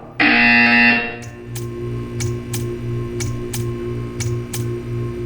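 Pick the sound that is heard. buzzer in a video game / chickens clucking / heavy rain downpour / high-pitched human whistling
buzzer in a video game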